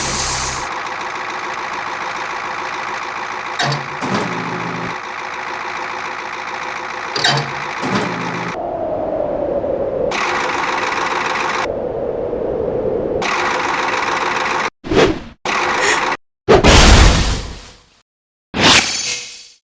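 A wrecking ball crane in the Henry Stickmin Collection video game gives a steady mechanical engine drone with occasional clanks, then ends in a few loud, abrupt bursts separated by short silences.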